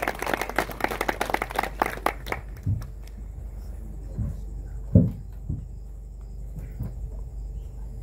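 Applause from the audience at a mushaira poetry gathering, a dense burst of clapping that lasts a couple of seconds and then thins into a few scattered claps, with a faint insect chirp over a quiet room.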